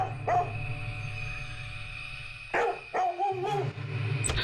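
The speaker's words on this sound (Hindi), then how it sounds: "शुरू हो गया भौंकना।" A pet dog barks in a Hindi-dubbed action thriller scene while people sleep after night duty: several sharp, close barks come in short bursts over a low steady hum, with brief pauses between them.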